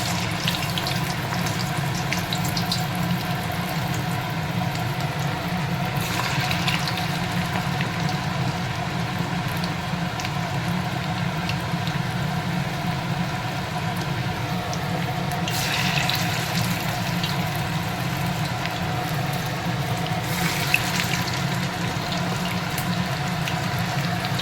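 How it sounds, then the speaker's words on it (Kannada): Cabbage Manchurian balls frying in heated oil over a low flame give a constant, even sizzling hiss that carries on unbroken, fairly close and without any talking. "ಈಗ ಎಣ್ಣೆ ಕಾದ್ಮೇಲೆ ಸ್ವಲ್ಪ ಅದು ಸ್ಲೋ ಫ್ಲೇಮಲ್ಲಿ ಇಟ್ಕೊಂಡು ನೋಡಿ ಬೌಲ್ಸ್ ಹಾಕ್ಕೊತ ಹೋಗೋಣ"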